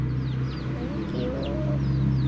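Two small chickens give soft, scattered clucks and faint chirps over a steady low hum. The sounds are modest and fairly close, with no talking.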